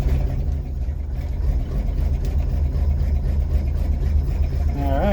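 A 1951 GMC Van Pelt fire engine idles after a cold start on a near-freezing day, a steady loud low rumble throughout with a slight throttle rise near the end.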